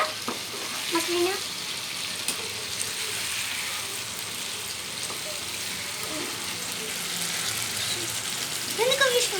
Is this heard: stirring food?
yes